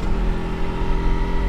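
ATV engine drones and revs steadily at close range while it drifts across grass, a continuous low rumble with slight surges and no voices over it.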